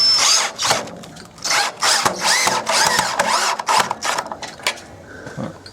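A power drill fixing an aluminium pergola profile to a wall, whining in short repeated bursts that rise and stop, close and loud; no talk.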